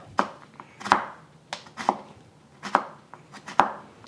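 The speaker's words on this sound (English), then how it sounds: "the carrot, cut it up into matchsticks" A knife cuts a jumbo carrot into matchsticks on a board. Five or six sharp, close chops come at an uneven, unhurried pace, each followed by a faint knock, with nothing else heard.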